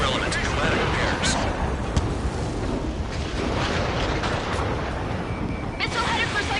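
Missiles and explosions fill an air combat video game, a dense continuous roar of blasts and booming impacts with scattered sharper bursts. Radio chatter may run faintly underneath.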